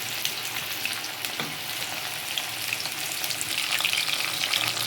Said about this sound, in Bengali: এই যে মাছের পকোড়া করছি, এক পিঠ ভাজা গেছে, এক পিঠ ভাজছি।